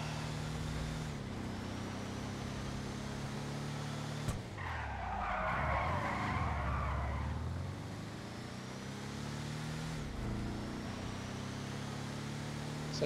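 Tires squeal and skid as a Bravado Youga Classic 4x4 van drifts in GTA Online, a sustained loud screech over steady engine drone that surges in the middle and returns near the end.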